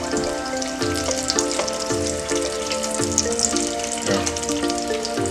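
Shell-on seafood, seven or eight pieces at a time, fries in a hot pan with a continuous close sizzle and crackle under a steady tonal hum, with periodic low thumps and one brief spoken word.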